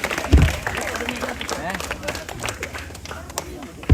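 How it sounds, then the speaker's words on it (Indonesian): A group at a Scout camp in Sangalla' Utara gives a short burst of clapping for a friend, close and scattered, with chatter and a voice speaking around it. "Tepuk tangan untuk temannya"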